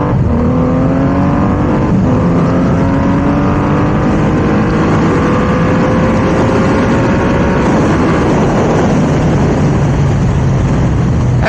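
A Triumph Rocket 3 motorcycle accelerates hard on a 60 to 130 mph run, shifted at a different RPM, giving a loud, continuous engine roar that climbs steadily in pitch through gear changes, with heavy wind rush over it.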